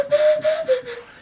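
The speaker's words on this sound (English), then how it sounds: "I got my nose whistle." A nose whistle plays a sustained, slightly wavering mid-pitched tone that slides gently downward, broken into four or five breathy puffs over about a second, close and clear with no talking.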